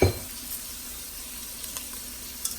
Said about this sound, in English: And I'm going to throw my cabbage in.